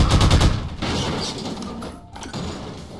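Gunfire in Half-Life 2: Episode One, a quick burst of rapid shots at the start followed by several scattered loud cracks and reverberant clatter, with no talk.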